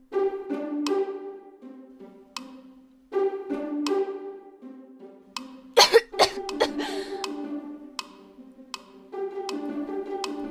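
A young woman coughs repeatedly in strained, voiced bursts, with a harsher cluster of rapid coughs midway, close and distinct against silence.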